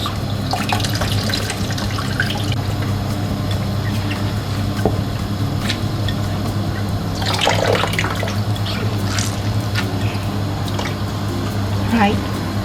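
Tap water runs steadily over soaked bitter gourd (karela) in a sink, with splashes and drips as it is rinsed and handled, the flow continuous and close throughout.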